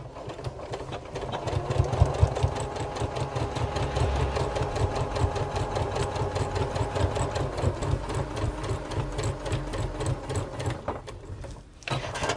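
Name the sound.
sewing machine sewing tool wallet pocket sides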